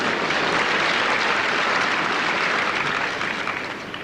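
Tennis crowd at Wembley applauding during the 1981 Connors versus McEnroe final: loud, dense, sustained clapping that fills the whole stretch and eases off slightly toward the end, with no talk over it.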